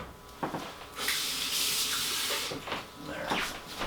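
A tap runs to refill a pet snake's water bowl, a steady close hiss of flowing water lasting a couple of seconds between softer handling clatter and splashes.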